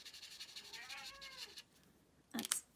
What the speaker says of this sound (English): And the cat wants up.